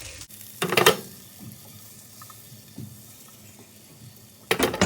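Garlic drops into melted butter in a hot pan, giving short bursts of sizzling with a quieter hiss and faint stirring between.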